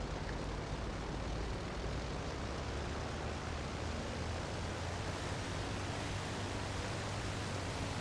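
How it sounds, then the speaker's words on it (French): A seaplane engine in a video game, a loud, continuous broadband roar that stays flat and unbroken from start to finish, like steady wind or surf, with no voices over it. "C'est la première fois que je crois que j'ai un avion qui va sur l'eau."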